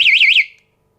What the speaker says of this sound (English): It's in motion detect mode at the moment. So if you go ahead and move this alarm,